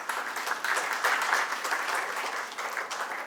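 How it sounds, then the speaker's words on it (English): Steady applause from an audience, many hands clapping at a moderate distance, continuous and fairly even throughout. "please give a round of applause for her"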